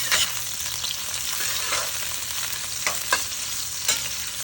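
Sliced medium onion fries in oil with garlic and four dried red chillies for pepper chicken, a steady close sizzle with occasional crackles and spatula scrapes, no voices.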